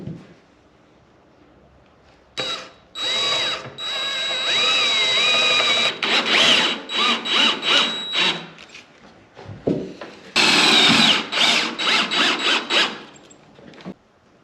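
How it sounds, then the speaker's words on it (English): A power drill drives screws into wooden decking on the flatbed of a 1940 Chevy truck with a Cummins engine. Two long, loud, close whirring bursts rise and fall in pitch, with a quiet pause between them and no talking. "I need to screw down the decking on the flatbed"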